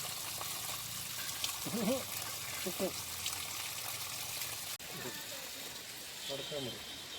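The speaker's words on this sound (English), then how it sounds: "So you can see the dirty water coming out of the pipe." Dirty water from a solar water heater pipe, unused for five years, trickles and splashes in a steady stream with a continuous wash of flow, while someone talks over it in places.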